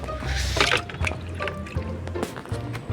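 Water splashing and trickling over a banana leaf as it is rinsed, a close, steady wash with a few louder splashes, set beside a betta fish tub.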